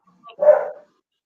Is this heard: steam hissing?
no